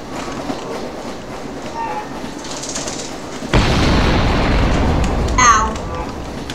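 A rumbling train rolls along amid game sound effects, with a sudden heavy boom partway through and a few sharp higher-pitched effects near the end.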